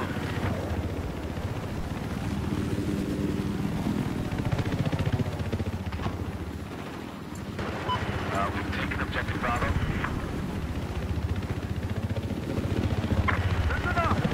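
A helicopter in Battlefield 4 gives a steady low rotor drone through the whole stretch, with game noises on top and players talking over it.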